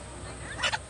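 Short clucking calls from a few chickens, two brief bursts near the end over a low background hum.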